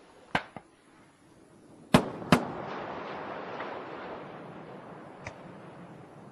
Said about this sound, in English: Sonic booms audible at the landing site.